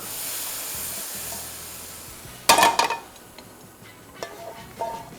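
A soft background hiss, then a sudden loud crackling sizzle as tempering spices hit hot oil for dal tarka, settling into quieter spitting and a few clinks.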